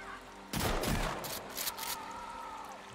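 Shotgun firing slugs in Sons of the Forest, a single loud close blast followed by a couple of quicker follow-up reports and a fading ring, with no voices.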